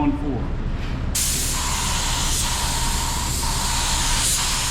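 A budget primer spray gun with a 1.4 tip sprays a primer coat, a loud, steady, close hiss that starts abruptly and runs on continuously, with someone speaking over it.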